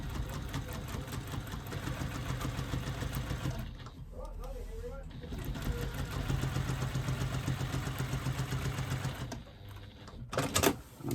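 A domestic sewing machine runs in steady, continuous stretches while stitching straight chalk-marked quilting lines, with its mechanism buzzing close by, a short pause in the middle, and a voice talking at times.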